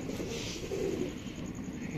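Pigeons of Sialkoti and Kamanger breeds coo softly in a low, murmuring burble at a moderate distance against a steady background hiss.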